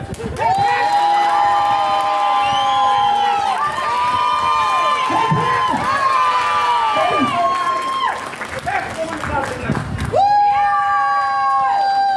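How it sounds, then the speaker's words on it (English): Crowd at a peaceful parents' protest in Ballymena cheering loudly for a woman, with shouts, whoops and clapping rising and falling close by, voices calling out over the noise. "we're going to give a big cheer for this woman"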